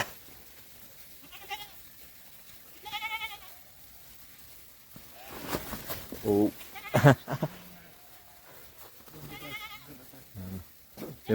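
Sheep bleat on a high mountain trail during the Rupin Pass trek, giving a few separate calls at intervals, mixed with people talking nearby and wind and handling noise.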